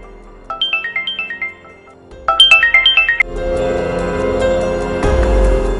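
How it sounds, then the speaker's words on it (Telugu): A mobile phone ringtone plays a bright repeating electronic melody in two short bursts, then swells into a fuller, louder musical ring that keeps going to the end, with no voices over it. "సుబ్బారావు కొడుకు ఫోన్ చేయడంతో ఫోన్ లిఫ్ట్ చేశాడు సుబ్బారావు."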